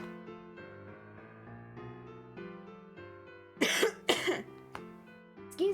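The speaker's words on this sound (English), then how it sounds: "I must cough, for it is early." A few sharp coughs burst out over a steady synth-like musical background, followed by another cough at the end.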